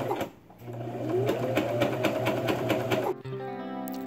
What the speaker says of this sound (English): Rewound the bobbin. Okay. Try two. And sewed the cuffs again.